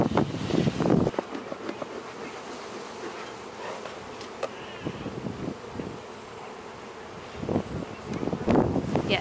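Honeybees buzz steadily around an open hive during a week-eight inspection of a first-year colony, a near, continuous drone with brief louder swells as bees pass close, no talking over it.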